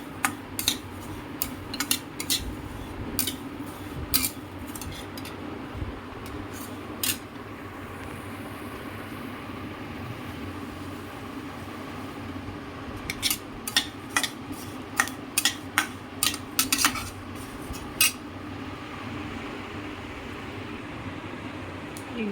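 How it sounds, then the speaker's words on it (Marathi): Poppy seeds dry-roasting in a pan over very low heat for dry fruit laddus, stirred with a spoon that makes bursts of sharp metallic clinks and ticks over a steady fan-like hum. "एकदम कमी गॅसवर 5 मिनिट भाजून घ्यायचं."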